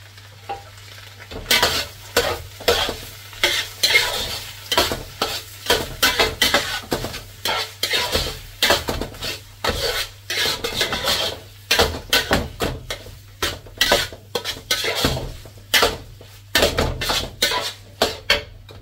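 Continuous sizzling as tomato sauce fries in a hot pan, with steady, repeated scraping and clattering of a utensil stirring, close and fairly loud throughout, no voices.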